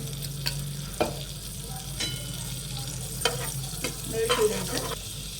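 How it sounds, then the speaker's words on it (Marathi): Butter sizzling in a pan with cut vegetable sandwich pieces on a stovetop, a steady close frying hiss broken by several clinks and scrapes of stirring, with no talking. "इथे आपण पॅन ठेवलेला आहे त्याच्यात बटर टाकून घेऊया"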